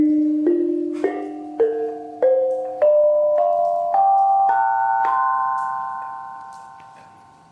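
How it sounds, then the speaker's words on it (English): Bonang, the Javanese gamelan instrument made of small gongs, struck in a rising sequence of about eight clear metallic tones, each ringing on and overlapping the next, played alone with no voices. "the bonang is an instrument from the Javanese gamelan, comprising a collection of small gongs"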